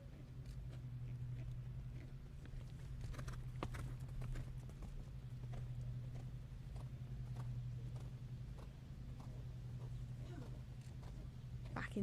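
Horse hooves cantering in a dressage test at an FEI eventing championship arena, a soft, steady rhythmic thudding of hoofbeats continuing throughout over a low, constant background hum.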